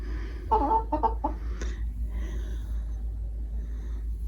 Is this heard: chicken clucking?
yes